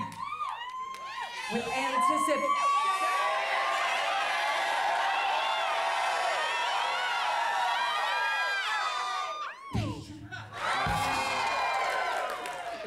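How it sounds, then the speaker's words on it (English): A rowdy theater crowd cheers at a live midnight show event, loud whoops, shrieks and shouting voices layered continuously, briefly dipping then surging again near the end. "You've been a great crowd. You've been rowdy and loud."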